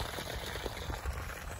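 Water pushed by a 1000W solar-powered submersible pump pours from a reduced one-inch pipe into a pond, a steady rushing, bubbling flow heard close and continuous.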